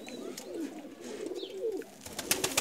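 A male Ferozpuri breeder pigeon coos softly in a few low, rolling phrases, quiet and close, with faint background noise.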